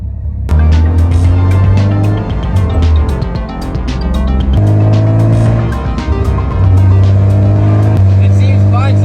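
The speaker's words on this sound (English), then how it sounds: "All right, first test drive." A Nissan 350Z out on a test drive after new brakes, its engine loud and close from inside the car, revving and shifting through rising and falling pitch with gear changes, with a person talking over it.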